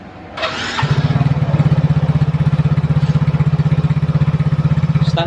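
A Yamaha Mio J scooter, started with a jumper cable after a faulty switch, cranks briefly and catches, then settles into a loud, steady, evenly pulsing idle close to the microphone.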